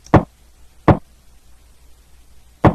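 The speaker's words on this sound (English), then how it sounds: "Let's pitch down the kick, and it sounds like this." A pitched-down kick drum built from a Call of Duty down sound thumps three times, deep and punchy with short decays, close and alone with uneven spacing.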